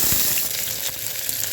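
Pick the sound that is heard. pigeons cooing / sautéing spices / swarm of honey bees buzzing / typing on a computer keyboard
sautéing spices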